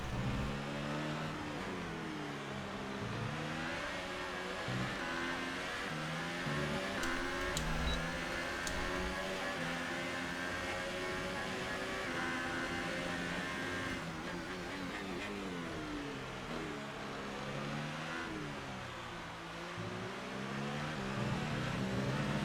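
Racing car engine in F1 2018 at the Mexican Grand Prix: a steady high-pitched engine whine rises and falls through gear changes. It drones on continuously for the whole stretch with no talk.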